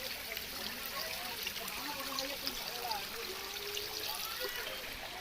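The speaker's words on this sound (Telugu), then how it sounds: "చిన్న వాటర్ ఫాల్స్ అని వచ్చేసింది." Small waterfall in the Anantagiri Hills, Telangana: a steady, soft stream of trickling and splashing water, moderately distant and continuous throughout, with no one speaking.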